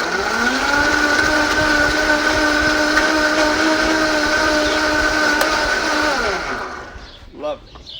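A blender crushes ice cubes for a frozen cocktail, a loud steady whirring grind that runs for about six seconds before winding down, with a brief clatter after it stops.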